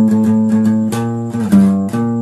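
A percussive guitar groove from Shiv Tandava Stotram: sustained chords with sharp body slaps and string hits at a steady rhythm, loud and close, with no voice.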